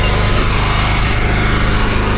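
A seed tender's auger runs continuously while filling a new Massey Ferguson planter, a loud, steady mechanical drone with engine-like hum and no pauses.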